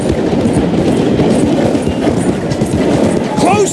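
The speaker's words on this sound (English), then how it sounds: "The train is slowing down to go through the station." A moving train in the Red Dead Redemption 2 video game, slowing through a station, gives a steady loud rumble with clattering rail noise throughout and a brief squeal near the end, with speech over it.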